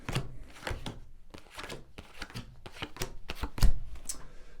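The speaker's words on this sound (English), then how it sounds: "And then just going to lay down your 10 cards on the table." Tarot cards being laid down one by one on a table after shuffling, giving a series of soft slaps and papery taps at an irregular pace, close and clear, with no voices.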